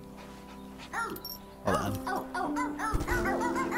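Cartoonish dogs in the video game Phogs bark and yip repeatedly in short bursts, with game music and a man's brief speech mixed in.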